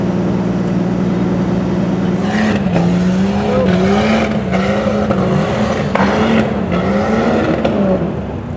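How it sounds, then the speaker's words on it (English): An off-road vehicle at an off-road park brakes hard and slides down a steep hill, engine droning and shifting pitch up close with tire and dirt scraping noise, no talking. "And brakes, full brakes. Full slide."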